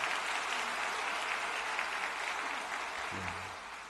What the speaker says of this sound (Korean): 큰 격려의 박수를 부탁드리겠습니다